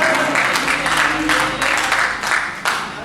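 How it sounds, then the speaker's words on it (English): Church congregation clapping hands at offering time, a loud, lively crowd applause with rhythmic surges roughly every half second, sustained throughout. "Clap your hands for offering time in the house of the Lord."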